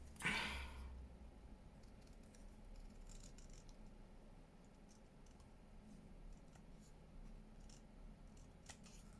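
Scissors make a single close snip cutting a small paper mushroom shape for a junk journal embellishment, followed by quiet room hiss with faint rustles and soft breathing.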